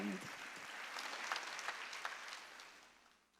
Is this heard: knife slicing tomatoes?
no